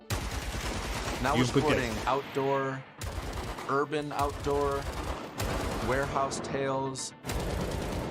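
Gunfire from a Blizzcon video game trailer, with bursts of rapid shots mixed under a voice talking over the footage.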